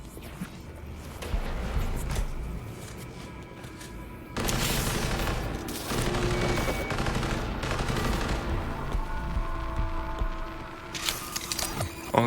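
Rapid bursts of automatic gunfire ring out at a shooting range in the video game Cyberpunk 2077, loud and sustained volleys with short pauses, a heavy rattling fusillade dominating most of the stretch.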